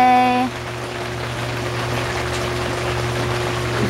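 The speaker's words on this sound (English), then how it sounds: "It's raining." Rain patters steadily onto an outdoor hot tub at night, a soft continuous hiss over the low steady hum of the tub's pump, with a brief tonal chime fading out at the very start.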